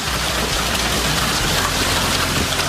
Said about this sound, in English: Check out the powerful hailstorm that hit parts of Colorado yesterday